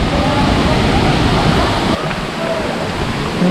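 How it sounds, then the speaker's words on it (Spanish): Loud, constant rush of water flowing from mountain springs inside a cave in the Huasteca Potosina, Mexico, a broad roar that dips slightly partway through. "Aquí empieza el agua, pura agua."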